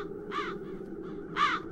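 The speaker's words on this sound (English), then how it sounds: "As long as the crows are wreaking havoc, nobody is admitted to the castle." Crows cawing in the fantasy adventure game The Dark Eye: Chains of Satinav, two hoarse calls about a second apart, clear and moderately loud over a low steady background hum.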